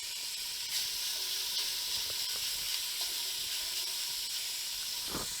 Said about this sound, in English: We're going to let these cook until the pieces of bacon are lightly browned and slightly crispy.